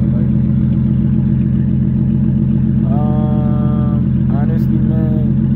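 A steady, loud, low engine drone from an Infiniti G35 with a hole in its X-pipe exhaust runs throughout, with brief revs rising over it near the end.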